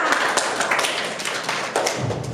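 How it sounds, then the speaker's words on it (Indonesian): Students in a classroom give a round of clapping, heard as a quick run of sharp, fairly close hand claps and taps that continues steadily for a couple of seconds. "Oke, tepuk tangan dulu semuanya."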